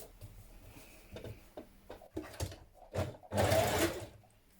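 A sewing machine runs in short stitching bursts on a tunic seam, building into a longer steady whir near the end, close up with light clicks between runs.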